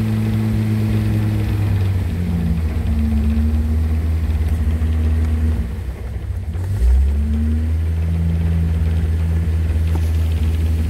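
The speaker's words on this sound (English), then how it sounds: "started the car up, trying to keep it nice, or trying to get the revs up till it warms up some" A 260Z car engine idles just after a cold start, held at raised revs to warm up. It gives a loud, close, steady droning hum whose pitch wavers slightly, with a brief dip near the end before it settles again.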